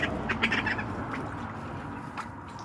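Ducks in a covered barnyard with straw bedding, several short quacks near the start and a few more later over a rumbling background.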